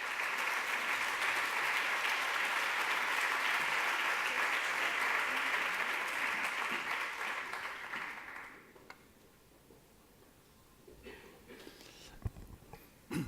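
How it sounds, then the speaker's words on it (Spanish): An audience applauds steadily as Toni Codina is welcomed onto the stage at a social third-sector conference. The applause runs loud for about eight seconds, then dies away to faint scattered claps and room noise. "recibámosle con un fuerte aplauso a Toni Codina"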